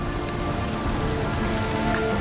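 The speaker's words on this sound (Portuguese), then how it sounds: "em Titã, a chuva não é de água, mas de metano líquido que cai lentamente" Steady rain falls and patters densely on a surface. The close, even hiss continues without pause and no one speaks.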